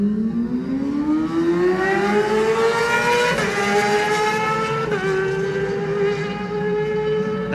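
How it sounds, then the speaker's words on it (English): At the Classic TT Manx Grand Prix Junior race start, a Kawasaki race motorcycle revs loudly, its engine pitch climbing steadily with gear changes as it pulls away, close and dominant. "Revs go up, he's on a Kawasaki,"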